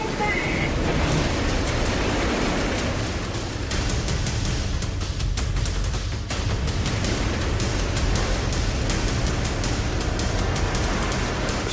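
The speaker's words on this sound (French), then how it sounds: "lutte contre des vagues de 6 mètres" Rough sea in a gale-force wind: continuous heavy roaring of waves and wind buffeting, loud and unbroken throughout, recorded from aboard a boat battling six-metre waves.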